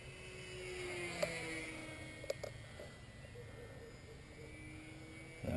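A Nitroplanes 800mm T-28 RC plane with an Exceed 2215 1500kv motor makes a slow pass, its faint, steady electric motor drone at a distance, with a few short clicks and no talk.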